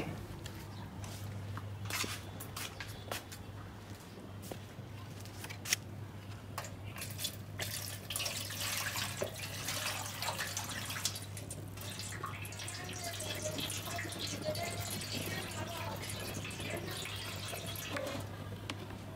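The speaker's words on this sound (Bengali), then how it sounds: "এখন কলটা আমি ছেড়ে দিব। পানি ভরতে লাগবে।" Water runs steadily from a tap with splashing and dripping, accompanied by a constant low hum throughout.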